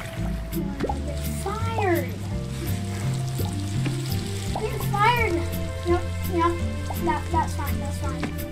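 A burger patty sizzles on a grill in the Roblox video game, a steady frying hiss that runs beneath game music and a person talking throughout.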